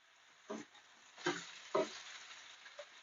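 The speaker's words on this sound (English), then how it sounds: "chicken is frying." Soft sizzle of chicken frying in a pan with a few louder spattering bursts, close by and steady underneath, no voices.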